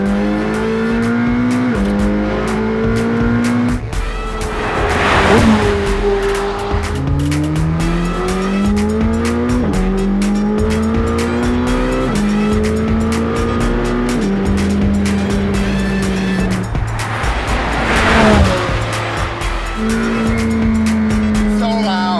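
A McLaren Sabre sports car makes repeated flyby passes, its loud engine note climbing through gears with sharp upshifts. The roar swells to two strong peaks as the car passes close by, then eases away between runs.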